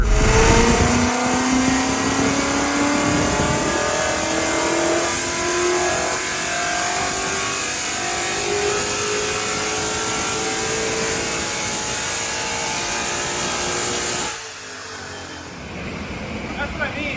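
A car fitted with massaged Boss heads and Boss racing cams accelerates hard in fourth gear to about 7,000 RPM, its rising engine howl loud and continuous before the throttle lifts abruptly near the end, with voices talking over it.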